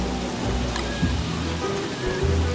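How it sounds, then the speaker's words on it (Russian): Heavy rain falls steadily in the survival game Don't Starve Shipwrecked, a dense hiss of broadband patter that runs throughout, with faint game tones and low thuds sitting beneath it. "вообще дождь такой проливной"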